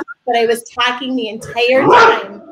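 A pet dog barks close to the microphone, loud bursts overlapping and following a person talking.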